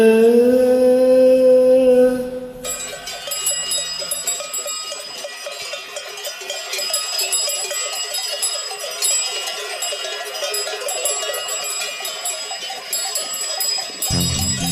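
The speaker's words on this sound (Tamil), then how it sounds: "காட்டு மணி காலைங்க கழுத்து மணி கேட்கையில" A sustained bleating call opens, then many small cattle neck bells clink and jingle continuously as the animals move together nearby.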